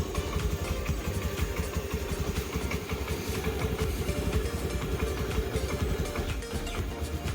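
A 2018 Honda Dio scooter's engine runs steadily at idle, close and loud, with a constant buzzing putter and no speech over it.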